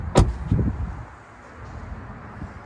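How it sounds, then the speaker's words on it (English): A 2021 Tesla Model 3's flush door handle is pushed in and the door pops open, giving a sharp close click followed by a soft thud and brief rustle outdoors. "You just push it in and the door opens."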